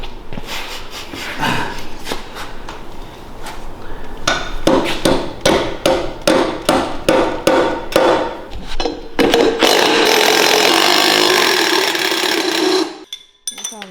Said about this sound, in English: Here, use this adjustable hammer.